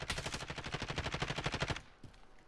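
Rapid automatic gunfire in a video game, a loud, evenly spaced burst of about twenty shots lasting under two seconds, followed by a single faint shot.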